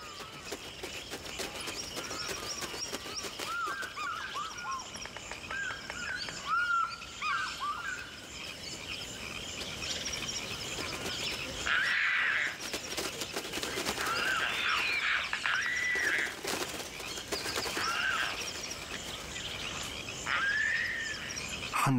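Birds flocking at the water's edge in Zambia call and chirp in overlapping bursts over a constant insect-like buzz, with some calls near and others farther off throughout.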